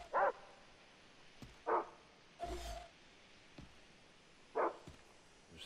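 Dogs in Far Cry 3 bark in short, separate bursts, three sharp barks spread across several seconds over a quiet outdoor game ambience, with a brief muffled thump in between.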